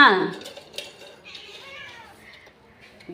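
Kitchen dishes, pots and pans waiting to be washed clatter in one brief close clink at the start, followed by a cat's soft meowing over a quiet background.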